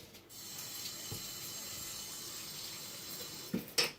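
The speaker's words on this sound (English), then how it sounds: "We're going to always just wash the spoon" A spoon is washed under a running kitchen tap, a soft steady stream of water with a faint clink near the end.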